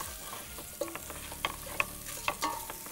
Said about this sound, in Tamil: இப்போ இதில் தக்காளி சேர்த்துறேன்.